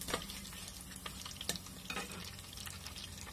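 Whole spices and a biryani leaf crackle in hot oil for egg biryani, a steady sizzling hiss broken by small pops and utensil taps, close by with no speech.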